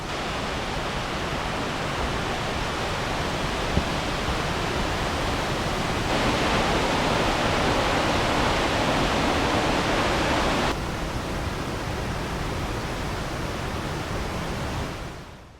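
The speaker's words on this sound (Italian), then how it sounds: "Queste sono le meravigliose cascate." Continuous roaring rush of a mountain waterfall at about 897 metres altitude near the Bulgarian border, a dense broadband hiss that swells louder in the middle before settling back down.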